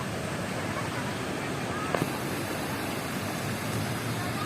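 Ocean surf at a surfing beach at Labuhan Jukung, Krui, at sunset: a steady broadband wash of breaking waves, fairly loud and continuous, with a faint brief knock partway through.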